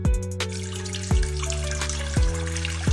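Water pours into sugar in a pan for gulab jamun syrup, a close, steady splashing stream with gurgling, bubbly pulses recurring every second or so.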